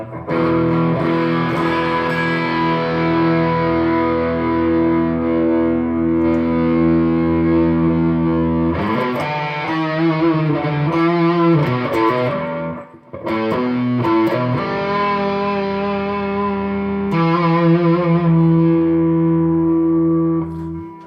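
Electric guitar played live through effects, its chorus and reverb being backed down, with sustained distorted chords and shifting phrases, loud and continuous with no talking.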